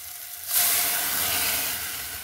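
Boiled arhar dal poured into a hot spiced tempering bursts into a loud hiss after a brief quiet moment, then keeps sizzling steadily close by.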